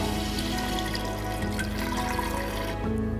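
About four cups of water pour into a pressure cooker holding chicken fried with cumin, a steady, full, rushing liquid sound that runs through the whole stretch without pause.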